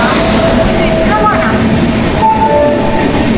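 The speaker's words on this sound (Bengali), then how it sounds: "এই যে বর্ধমানে 1 নম্বরে ঢুকে গেছে আমাদের 12381 দিল্লিগামী ট্রেন পূর্বা এক্সপ্রেস।" Train number 12381 Purba Express, a Delhi-bound train, pulling into platform 1 at Bardhaman station, with steady rumble and wheel clatter, a horn sounding briefly, and platform voices mixed in.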